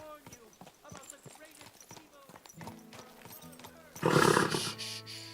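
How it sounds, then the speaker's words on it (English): Horse hooves clip-clop at a steady rhythm in a medieval role-playing video game, close and moderately loud under a man's speech and background music, with a louder burst of game sound near the end. "Easy, good horse. Good horse."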